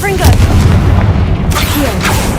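Confringo blasting spell explosions in the Hogwarts Legacy video game, a loud rumbling boom with low-end weight, a second burst hitting around the midpoint amid game noise and faint voice-like tones.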